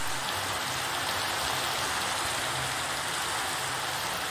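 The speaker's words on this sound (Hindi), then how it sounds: "बारिश भी शुरू हो चुकी है एकदम" Steady rain falling in a Minecraft game world, a constant broadband hiss of downpour without pauses, no speech over it.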